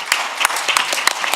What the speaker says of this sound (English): let's give a big round of applause for our guests who did a great job